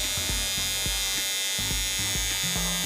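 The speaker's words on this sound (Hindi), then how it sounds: "सो ये एक ट्रिमर है एंड ये ऑन नहीं हो रहा, ऑन हो गया।" An electric facial hair trimmer running close by, a loud, steady high buzz with a regular lower-pitched pulsing as it works, no talking over it.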